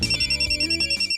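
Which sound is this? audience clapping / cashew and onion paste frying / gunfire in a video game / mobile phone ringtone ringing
mobile phone ringtone ringing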